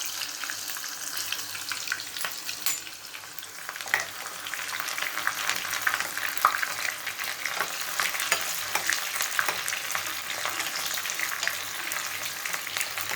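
Chopped onion and tempering spices sizzle and crackle in hot oil for gongura dal, a steady frying hiss with scattered pops and occasional stirring, fairly quiet and without talk.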